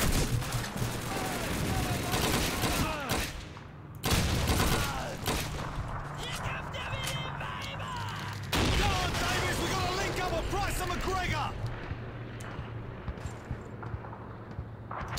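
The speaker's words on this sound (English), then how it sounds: "That sounds like an MG42" MG42 machine-gun fire from the World War II game Call of Duty 2 rattles in bursts among scattered shots and explosions, with gameplay noise steady throughout and a voice over it.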